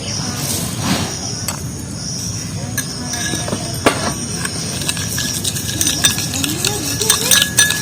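Sugar stirred into papaya juice with a spoon, a steady close scraping and clinking against the container with brief metallic ticks throughout.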